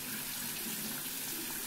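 Tap water runs steadily into a sink as someone wets their face before washing, a continuous close, even splashing hiss with no talking.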